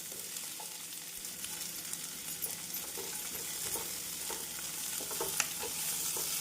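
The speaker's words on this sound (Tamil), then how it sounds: "வெங்காயம் 2 நிமிடம் நன்றாக வதங்கவும்" Onions fry in oil with salt in a pan for chilli chicken, with a steady soft sizzle. Occasional light scraping sounds come from stirring.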